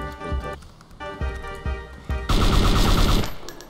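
Gunfire in the video game DayZ: a few separate shots early on, then a dense, loud burst of rapid fire with game sound mixed in.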